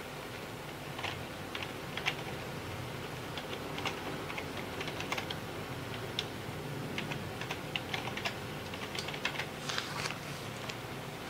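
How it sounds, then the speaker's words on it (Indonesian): Rapid, uneven keystrokes on a computer keyboard as an email address is entered, light clicks close by and steady throughout with no talking. "Anda bisa ketikkan di account information di nomor 1 ini."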